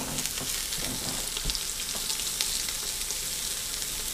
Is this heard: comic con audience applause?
no